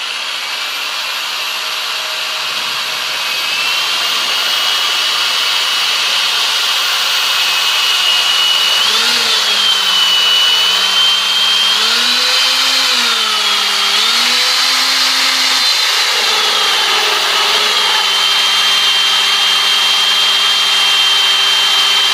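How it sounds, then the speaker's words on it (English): A diamond drill bit grinds into a glass Jagermeister bottle, a loud, steady whining drone that shifts pitch a few times over roughly twenty seconds of continuous drilling. "let's start drilling and see how we do"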